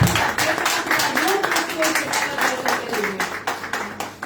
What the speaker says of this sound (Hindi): मैं चाहूंगी कि हम जोरदार तालियां बजाकर खुदा बाप